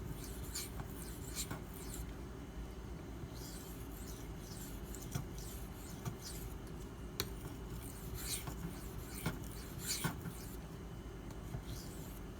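A Maxamet steel knife blade scrapes steadily across a 400 grit Nano Hone, a close, continuous gritty rasp of repeated strokes with no talking.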